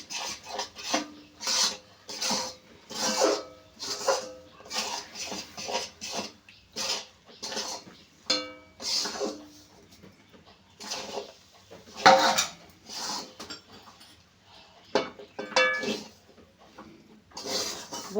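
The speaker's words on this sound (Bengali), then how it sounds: "আর এই নাড়তে থাকবো এইভাবে" Semolina and flour being stirred into palm pulp in a wok for taler bora, giving repeated scraping and rasping strokes of a utensil against the pan, close and fairly loud, in a steady rhythm with brief pauses and no talk.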